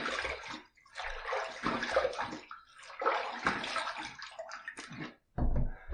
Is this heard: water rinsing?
yes